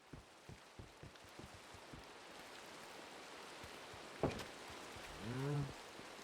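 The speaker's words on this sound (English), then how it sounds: "I go and get a shovel, and now it's raining." Rain falls steadily in Minecraft survival, a soft continuous hiss with scattered drop ticks, quiet and alone, broken near the end by a brief bump and a short rising-falling tonal sound.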